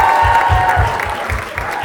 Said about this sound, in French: On va applaudir aussi l'équipe de louange.